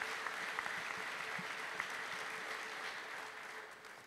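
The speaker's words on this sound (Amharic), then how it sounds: "እስቲ ክብር ለጌታ የሚሰጥ ሰው በደንብ ያጨብጭብ" A congregation applauding in praise to God at a religious service gives a steady, dense wash of clapping that holds at an even level and tapers a little toward the close.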